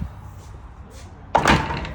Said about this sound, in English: This door stays open, latched into high density plastic, and I just pull that knob